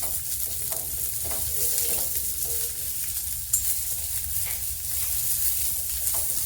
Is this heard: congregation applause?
no